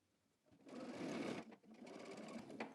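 A sewing machine stitches down a jacket flap in one close, buzzing burst of about a second, then a short pause before a second steady run.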